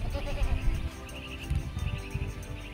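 Goats bleating on a farm that keeps several dairy breeds, including Alpine: a busy, overlapping chorus of calls over steady background noise, with possible faint voices.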